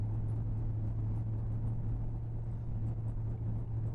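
A 1967 Ford Falcon stock car drives along the road, its engine a steady, loud low rumble that fills the whole stretch with no pauses and no voices.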